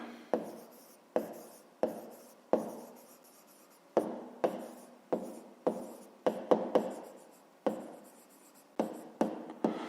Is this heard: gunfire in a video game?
no